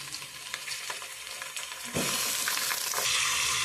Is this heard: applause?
no